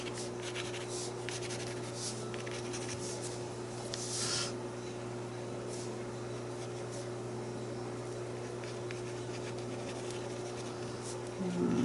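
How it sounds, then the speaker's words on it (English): A pen doodles on paper in steady, close, scratchy strokes, continuous and soft over a constant background hum. "Again, I am just doodling right now."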